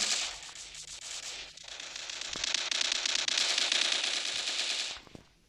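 UMP gun firing in the mobile shooter game Standoff, a sustained rapid automatic burst of loud crackling shots lasting several seconds before stopping abruptly.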